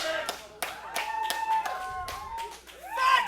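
A wrestling crowd claps in a rough, uneven rhythm of sharp hand claps, with voices talking over it.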